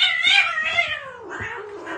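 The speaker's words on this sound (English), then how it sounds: "Is that a cat?" A cat meows loudly and close by in a long, drawn-out, wavering call that falls in pitch, followed by a shorter second cry, with no talking.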